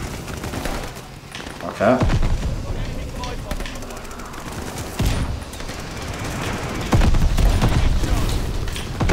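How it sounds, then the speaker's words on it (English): Shotgun blasts in a video game, a couple of sharp loud shots amid steady in-game gunfire and action noise, with a player talking over it. "I don't know how I'm missing it with the shotgun."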